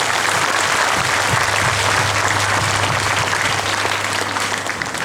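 A packed congregation applauds at a church diamond jubilee celebration, producing loud, continuous, dense clapping that holds steady throughout and eases only slightly in the last moment.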